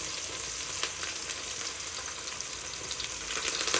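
Chopped onion and green chillies hit hot oil with cumin and mustard seeds in a pan while cooking khichdi, giving a steady, dense sizzle with light crackles throughout, close and alone.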